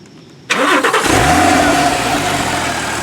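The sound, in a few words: Porsche 997.2 Carrera 4S 6-cylinder engine starting and revving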